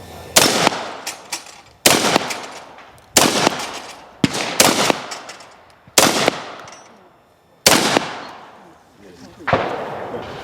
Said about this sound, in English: Shoot the target.